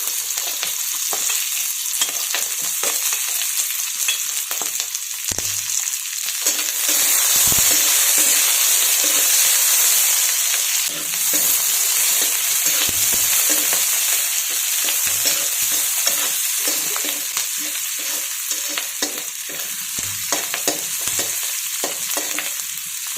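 Onion and green chili pieces frying in a pan give a continuous loud hiss and sizzle, with occasional scraping stirs breaking through, close by and with no talking.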